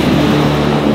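A homemade Tesla Cyber Truck replica, its welding not fully finished, starts up with a loud, close, steady low motor hum and rough droning rumble.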